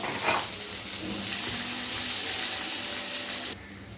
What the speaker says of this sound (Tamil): இப்போது வெங்காயம் பொன்னிறமாக வதங்கியிருக்கு